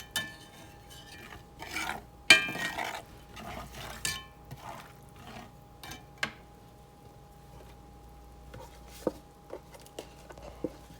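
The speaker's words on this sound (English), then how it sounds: "we're just going to mix that in and let that start cooking down good" A spoon scrapes and taps against a pan while stirring beef bouillon into a flour mixture for brown gravy, giving soft intermittent rasps and clinks at close range with no talking.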